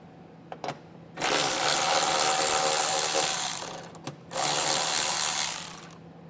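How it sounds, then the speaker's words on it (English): Nuts being removed with a ratchet and 10mm socket on a 2022 Kia Niro EV, two long bursts of rapid close clicking ratcheting separated by a brief pause, with a few light taps before. "I'm using a 10mm socket to take these off."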